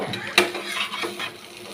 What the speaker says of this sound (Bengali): এই পাশ ওপাশ ভেজে নেব।